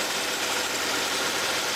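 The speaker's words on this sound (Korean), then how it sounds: "엔진소리도 굉장히 오늘 날씨가 영하 한 5에서 7도 정도 거든요 그래도 엔진 소리가 굉장히 좋습니다" A large sedan's 3.3-litre engine idles steadily in sub-zero cold, around -5 to -7°C, with a low, even hum and a broad hissy noise, running alone without talk for the whole stretch.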